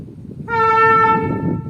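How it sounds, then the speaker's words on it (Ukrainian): A single loud, sustained horn blast sounds close by for about a second over low rumbling background noise, near a floating pontoon walkway in the thickets along the Dnipro river. "Клаксон"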